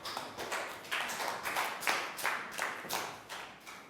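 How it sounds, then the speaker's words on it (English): A classroom of Year 3 students applauds a classmate, Pat, after a demonstration: several bursts of hand clapping, fairly close and moderately loud, with no talking over it. "Big round of applause for Pat."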